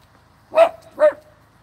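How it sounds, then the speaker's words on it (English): A small dog gives two sharp, close barks in a yard, spaced about half a second apart, against a quiet background. "don't know what the little dog is barking at"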